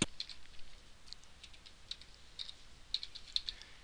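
Typing on a computer keyboard to enter report criteria, soft, quick key clicks in irregular clusters, close but faint, alone with no voices.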